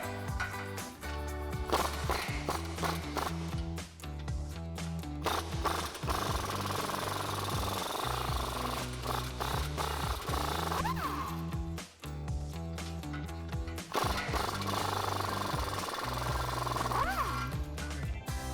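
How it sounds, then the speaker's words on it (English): Rapid hammering rattle of a power tool running a 13mm socket on rear sway bar bolts of a Mustang GT, continuous and steady with a low droning hum underneath throughout. "we're gonna take a 13mm socket and remove these 2 bolts"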